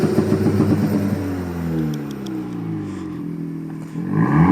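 A 2018 Honda Civic Si engine with muffler deleted revs up and settles, with rising and falling tones and a brief clatter, close by and fairly loud, no talking.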